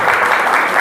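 Applause at an ex-servicemen's get-together of the 19 Jat Regiment in a hotel in Chirawa, Rajasthan, a dense, loud burst of many hands clapping that continues steadily through the moment.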